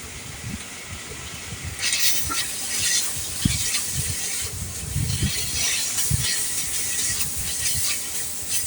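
Ginger, onion and garlic paste frying with chili powder and spices for a chicken roast, a steady close hiss of oil and paste with a louder spitting sizzle in the latter part, plus faint clinks from stirring.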